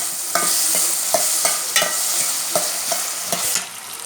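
Tomato, onion and capsicum frying in a pan, a loud close sizzle broken by a regular scrape of stirring every half second or so.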